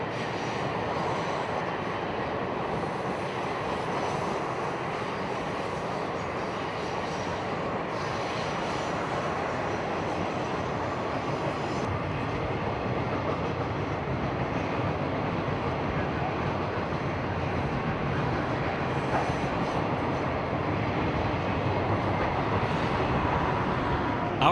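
A Ringling Bros. circus train rolls past, a long, steady, loud rumble of wheels and railcars with some metallic squeal, continuous throughout with no break.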